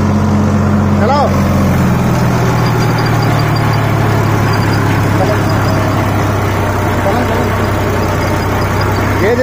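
A Sonalika DI 35 tractor driving a 7 ft rotavator, its engine running steadily and loudly close by with a constant low drone throughout.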